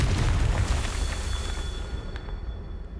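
Confringo fire spell blast in the video game Hogwarts Legacy, a loud booming explosion with rumbling low-end that rolls on and slowly fades over a few seconds.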